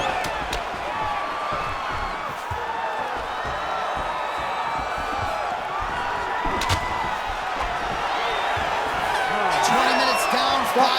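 Crowd in the EA Sports UFC 5 video game cheering and roaring steadily through a fight as the fighters get back to their feet, a dense wall of noise with occasional whoops and thuds beneath it.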